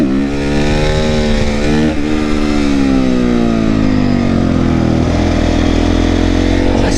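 A Honda CRF450R supermoto motorcycle rides around a bend, its loud, close engine holding a steady rasping drone as the pitch dips and gradually falls through the turn, with no talking.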